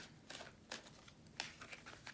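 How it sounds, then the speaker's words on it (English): Tarot cards being shuffled by hand during a reading, with soft, repeated riffling and flicking bursts at an even pace, fairly quiet and close. "I'm going to keep shuffling these."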